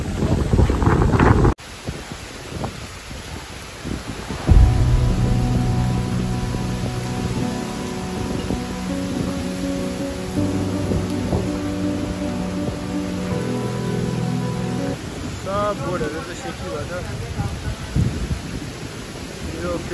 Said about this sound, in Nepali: फेवातल पनि समुद्र जस्तो लागिरहेको छ अहिले एकदमै छाल आइरहेको छ बोट त यता उता हल्लाइदिरहेको छ